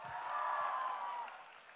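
A live audience at an evening stage show applauds in a steady, moderately distant wash of clapping that swells and then gently fades over a couple of seconds, with no voices on top.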